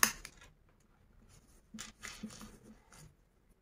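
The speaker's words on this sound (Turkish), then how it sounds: "Şimdi bu arka dikiş paylı kesiyorum." Scissors cut through folded paper for a dress pattern with seam allowance, a few crisp snips and rustles spaced apart, faint and close in a quiet room.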